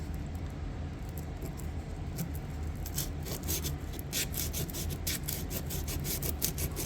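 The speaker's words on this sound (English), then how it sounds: "Let's just hit it with the sandpaper one more time." Sandpaper scrubbing rust off metal sidewalls, a steady close rasping rub with quick repeated back-and-forth strokes that grow more pronounced toward the end, no talking over it.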